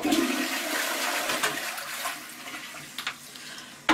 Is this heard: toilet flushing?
yes